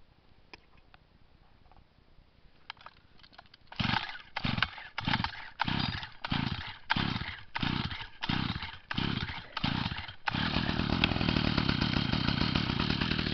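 Stihl MM 55 Yard Boss tiller engine, cold, being started with the choke on: quiet handling noises, then about ten rhythmic rasping pull-starter strokes before the small two-stroke engine catches and runs steadily, loud and close.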